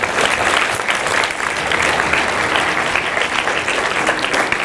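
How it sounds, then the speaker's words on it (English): Audience applause at a live leadership keynote at William Paterson University, a steady dense wash of clapping that holds at even loudness for the whole stretch with no talk over it. "Give yourselves a round of applause."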